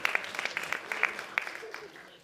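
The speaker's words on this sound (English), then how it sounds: "Again, can we give them a round of applause?" Scattered hand claps from an audience after a children's dance at an Easwaramma Day celebration, sparse and fairly faint, thinning out toward the end.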